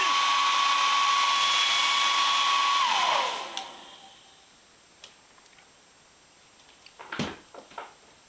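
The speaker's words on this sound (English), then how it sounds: "I'll get the hairdryer out and maybe have a go at that." A hair dryer blows hot air onto a rosin-sealed threaded pipe joint, a loud steady whir with a tonal whine that winds down after about three seconds, followed by a few faint clicks and knocks of handling.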